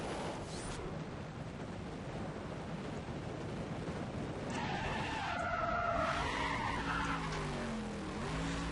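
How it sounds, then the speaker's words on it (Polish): Tires screech and skid loudly over a roaring race-car engine in Need for Speed World, a Ford Mustang Boss 302 burning rubber in a continuous burst of squealing with rising and falling whines toward the end. "I palenie kapcia na koniec."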